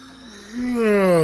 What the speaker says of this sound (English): that's a real yawn